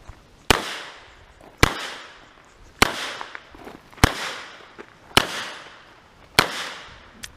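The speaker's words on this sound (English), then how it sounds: "he fired 11 rounds because one didn't go off for whatever reason" A World War I Colt Model 1917 New Service revolver firing .45 ACP rounds, six loud sharp shots at an even pace about one to one and a half seconds apart, each ringing out briefly outdoors.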